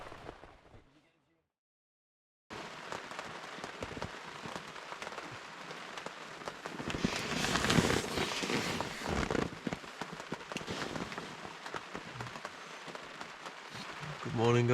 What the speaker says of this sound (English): it's raining outside. As you can probably hear.